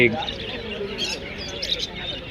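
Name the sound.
caged birds at a bird market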